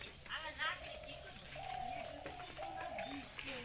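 Fantail pigeons nesting as a pair over eggs coo softly in low, repeated phrases, joined by a few faint chirps and light background noise; the sound is close but quiet.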